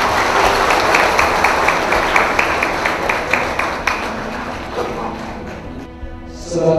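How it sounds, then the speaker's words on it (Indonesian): Sustained, loud applause from a crowd at an Indonesian military anniversary prayer gathering, dense clapping that fills most of the moment before thinning out near the end. "Tepuk tangan hari ini."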